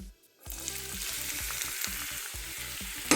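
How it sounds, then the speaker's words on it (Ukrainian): After a brief quiet moment, chopped onion starts sizzling in a little oil in a pan, a close, steady crackle with soft low thumps underneath. "на сковорідку я налила зовсім трошечки олійки і додаю сюди цибульку"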